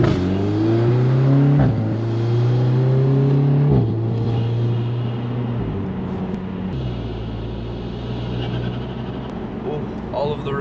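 A Mk7.5 VW Golf R in race mode accelerates hard through the gears, its engine tone climbing then dropping at each shift, loud inside the cabin, with a voice speaking over it.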